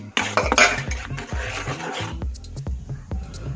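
Cashew nuts frying in a pan with ghee while a sweet broken wheat halwa is prepared, with metal scraping and clinking of a utensil against the pan and sizzling, stirring noises, close up with no talk.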